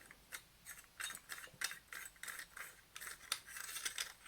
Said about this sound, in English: Okay, so you can unscrew this.